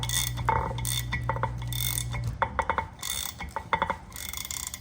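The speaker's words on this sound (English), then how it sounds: "all we got to do now is just start cranking. And it's just going to seat that bearing for us." A bearing press tool cranks to seat an ABS wheel bearing on a Harley-Davidson, giving close, repeated ratcheting clicks and metallic mechanical clatter over a steady low hum that stops partway through.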